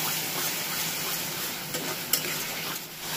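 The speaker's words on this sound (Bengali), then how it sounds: "হালকা একটু জল দিয়ে কষাবো।" A masala with cashews is stir-fried in a wok, a soft constant sizzle with scraping stirs and one sharp clink of the spatula, fairly quiet and close, no speech.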